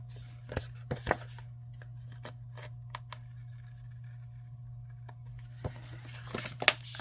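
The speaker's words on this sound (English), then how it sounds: "What did I do with my scissors? We're going to trim the extra here." Scissors snip and trim paper while making a handmade card, a few short crisp cuts and crinkles close by over a steady low hum, with a brief cluster of sharper snips near the end.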